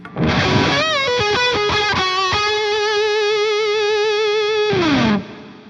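A single electric guitar note, distorted through a VLD1 Legacy Drive overdrive pedal, rings out loud and sustained after a few quick picked notes, then slides down and cuts off.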